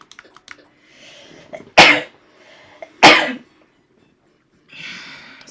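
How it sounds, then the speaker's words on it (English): Two sharp, loud sneezes burst out about a second apart, close to the microphone, surrounded by quiet breathing and small room noises. "I'm about to sneeze."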